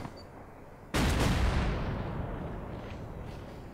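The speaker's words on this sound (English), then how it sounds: "I'll muffle the sound with a shotgun." A single loud, close shotgun blast in the Rust video game fires after a second of quiet and then rolls into a long, fading reverberant tail.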